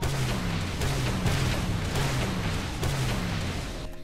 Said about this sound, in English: It's Halo 4's fuel rod cannon